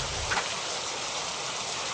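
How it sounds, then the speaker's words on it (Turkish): Heavy rain drums steadily on a DAF truck in the Truckers of Europe 3 driving game, a dense, even hiss that holds at one level from start to finish with no talk over it. "acayip sağanak var yalnız"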